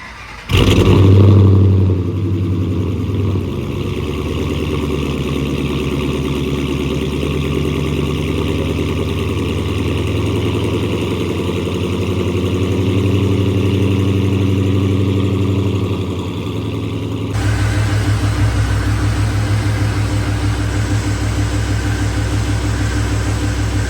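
A Ford Mustang 4.6L 3V V8 fitted with a 2.6 Kenne Bell supercharger cranks and fires up, then settles into a loud, steady idle with a persistent whine, the engine note shifting slightly in the last few seconds.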